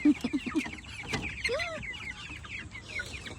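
Several Rhode Island chickens clucking and chattering close by on a mountain farm at feeding time, short overlapping calls in an uneven rhythm, with a few rising squawks.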